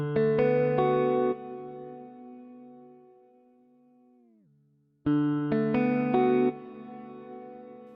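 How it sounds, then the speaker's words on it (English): Electric guitar run through a Folktek Alter Y effects pedal set for reverb with capture: strummed chords ring out, a long sustained tail bends downward and fades, then a second burst of chords enters loud and close. "When you dial it all the way up, you get what's called reverb with capture"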